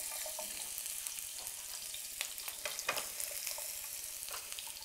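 Chopped onions sizzle steadily in hot oil in a saute pan, a dense continuous hiss with a few brief crackling pops, loud and close throughout with no talking.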